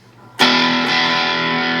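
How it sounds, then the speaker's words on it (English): An electric guitar chord struck through a TC Electronic Fangs Metal Distortion pedal at zero gain rings out loudly and sustains with a gritty, fuzzy edge after a brief quiet moment. "No matter what you do, you got some distortion going on."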